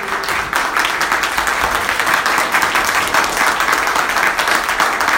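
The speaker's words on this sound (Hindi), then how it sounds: "जोरदार ताली बजाओ प्रभु के लिए" Church congregation clapping loudly and enthusiastically during a worship service, a dense, continuous burst of applause sustained at full volume without speech.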